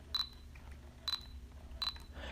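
A 2017 Fuji X100F camera in high-performance mode gives three short, high, quiet autofocus beeps at roughly even intervals. Each beep comes with a soft click.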